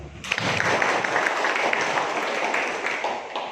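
Applause from the audience at a community work meeting in Jatirejo subdistrict, a dense steady wash of clapping starting abruptly and holding for a few seconds, fairly close and loud.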